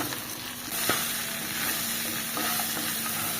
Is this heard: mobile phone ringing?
no